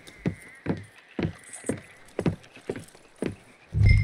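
Hooves of a horse beat out a fast, regular galloping rhythm in Red Dead Redemption 2, loud and close, ending with a deeper thud.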